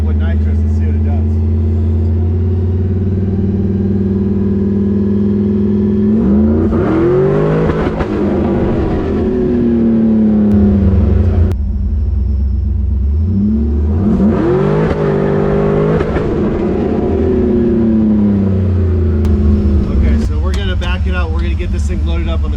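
Car engine readied for a burnout contest revving hard on a nitrous hit, two long loud climbing wails that rise and fall with rumbling idle between them, close and powerful, with a voice talking in the pauses.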